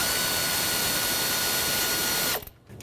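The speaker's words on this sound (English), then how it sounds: "If you look right back there, you'll see that 8mm bolt. Let's unbolt it" A power tool whirs continuously while removing an 8mm bolt on a 2008-2010 Ford F-250 during a heater core crossover tube job, loud and close, then stopping abruptly near the end.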